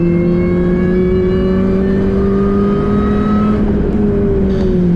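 A budget R53 Mini Cooper S lapping Oulton Park on a slippery, damp track, its engine holding a loud, steady drone heard from inside the car, with a slight pitch shift and gear change near the end.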